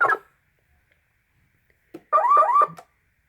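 A 2002 Toy State Chevrolet SSR toy car sounds its electronic alarm, a short burst, a pause, then a brief warbling siren-like tone, close and alone without talk.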